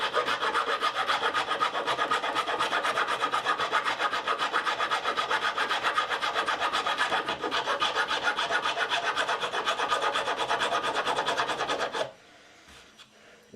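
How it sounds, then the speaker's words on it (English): A rasp files a wooden bridge in steady, rapid back-and-forth strokes, loud and close for about twelve seconds before stopping abruptly. "So I'm going to go ahead and finish that up with the rasp"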